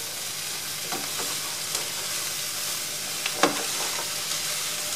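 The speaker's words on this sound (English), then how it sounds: "Let that all cook together. Give it a little stir." Broccoli and other vegetables sizzle steadily in a pan that is slightly too small, with a few soft scraping stirs and one sharper clatter near the end, close and moderately loud.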